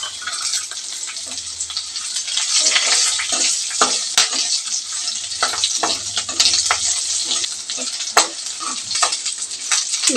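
Tamarind and garlic frying in a pan, a steady close sizzle broken by scraping stirs.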